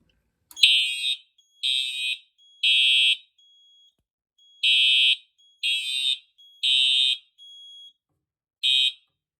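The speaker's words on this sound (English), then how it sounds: "let's go and activate the smoke detector" A Simplex 4004R fire alarm panel, triggered by a smoke detector, sounds in repeated shrill electronic beeping bursts, about seven pulses with short gaps, after a sharp click at the start.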